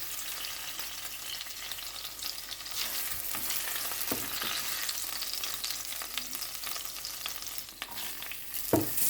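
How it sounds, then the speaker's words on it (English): Minced pork meatballs frying in cooking oil in a heated pan, a steady bright hissing sizzle that holds throughout with a few soft knocks, close and moderately loud. "In a heated pan with cooking oil, put the minced pork, by forming it into a mini ball"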